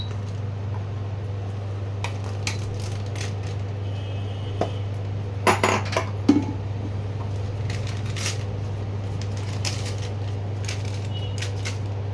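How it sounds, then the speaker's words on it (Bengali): A pot of boiled dal (lentils) is lifted off a kitchen stove, with a few brief metallic clanks and knocks midway over a steady low hum and no talking. "এবার ডালটা আমি নামিয়ে ফেলছি"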